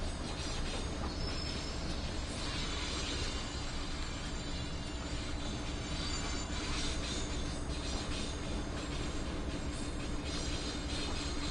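A commuter train pulls out of a busy station in Train Sim World 2 on a Boston Sprinter route, with a steady loud rumble of rolling wagons, wheel noise and faint squeals running continuously throughout.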